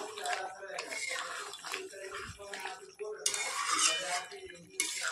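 Chicken roasting in a pan with Everest garam masala, a steady sizzling and scraping clatter running throughout, with a brighter burst of frying noise near the end.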